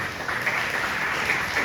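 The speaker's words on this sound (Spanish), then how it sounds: "Denle un fuerte aplauso al Señor." A church congregation at a Spanish-language service claps in a brief, steady burst of dense applause with no speech over it.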